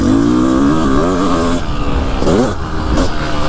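A 500CR motorcycle engine revs hard and close, its pitch climbing and falling in repeated surges, then dipping briefly before rising again in short bursts.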